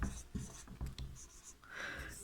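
Pen or chalk writing a sentence by hand in English, a run of short scratchy strokes with brief pauses, close and fairly quiet, no talk.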